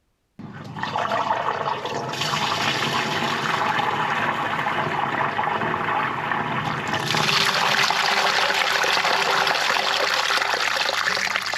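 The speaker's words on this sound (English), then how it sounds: "So we're going to run some water down everything and make sure it comes through nicely." Water run down household drains pours steadily into a septic tank system with a BioDisc unit, a continuous rushing, gurgling flow that starts abruptly and grows louder and brighter partway through.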